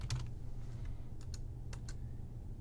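A username being typed on a computer keyboard: scattered light key clicks, close and fairly quiet, with a few taps in a row and pauses between them over a low steady hum.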